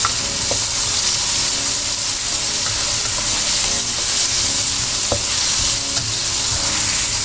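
Tomato sautéing in a pan for cabbage shrimp with oyster sauce, a steady loud sizzle and frying hiss throughout with occasional sharp clicks of stirring, no talking.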